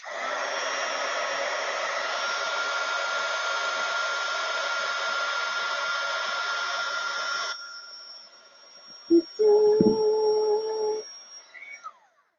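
A heat tool blows hot air over ink splat earrings, a loud, steady whirring hiss that cuts off sharply, leaving a faint hum and a few brief clicks and tones before silence.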